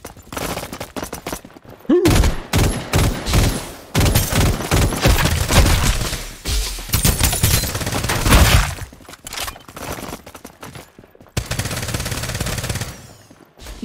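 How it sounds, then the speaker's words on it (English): Gunshots in the battle royale game Farlight 84, in hunt mode at City Plaza: repeated sharp bursts and rapid volleys, loud and close, with short pauses and a sustained stretch of fire near the end. "Dude, where the shots come from?"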